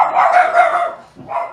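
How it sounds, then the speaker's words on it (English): Dogs barking indoors nearby, a couple of loud barks in quick succession with a short gap before another, sounding close and sharp. "Sorry about that. I didn't mean for the dogs to go nuts."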